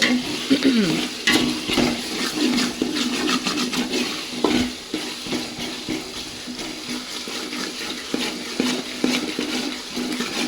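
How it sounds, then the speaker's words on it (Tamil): Masala frying in ghee in a pot for mutton gravy, constantly stirred, a bubbling sizzle with repeated scraping strokes running throughout, close and even. "இந்த பச்சை வாசனை போகிற வரைக்கும் நீங்கள் கிண்டிக்கிட்டே இருங்க"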